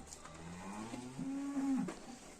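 A young bull gives a single drawn-out moo, rising then holding a low tone, close by with faint background noise.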